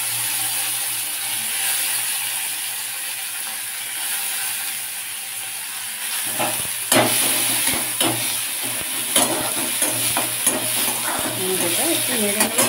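Chopped tomatoes drop into hot oil with tempered spices for a paneer kofta curry. Steady loud sizzling follows, with intermittent scraping and stirring strokes of a spatula against the pan. There is no speech.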